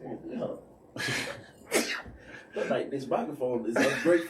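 A person sneezes during a casual podcast-style conversation. One abrupt burst cuts in among several voices talking and chuckling nearby.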